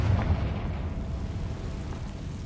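A Confringo blasting spell goes off in the video game Hogwarts Legacy, giving a booming explosion with a rough, sustained rumble that stays loud for the whole moment.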